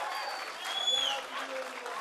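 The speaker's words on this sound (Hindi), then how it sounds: "आप ताली बजाइए" An audience at an outdoor poetry recital at JNU in Delhi claps in a steady patter, with a sharp whistle cutting through partway and voices murmuring underneath.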